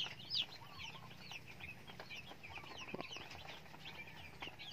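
Broiler chicks of the Cubs 500 breed chirp in a steady, overlapping chorus of high, thin peeps at moderate distance, with a soft low hum of the brooding pen beneath.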